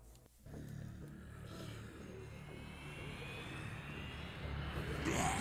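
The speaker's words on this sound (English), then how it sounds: "Hello, Mr. Plane." Airplane engine in the video game Dead Rising 3, a steady droning jet roar that swells slightly louder toward the end, continuous and alone after a brief quiet start.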